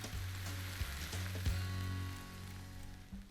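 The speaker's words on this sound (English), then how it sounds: "Oh, listen to that sizzle." Egg omelet sealed in a bag sizzles steadily inside a hot waffle maker, a close, even frying crackle with a low hum and a few soft clicks, no talking.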